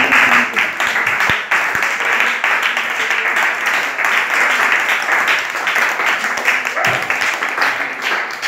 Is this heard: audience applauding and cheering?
yes